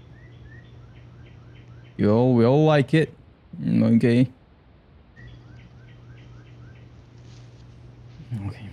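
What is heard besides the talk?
birds singing in the morning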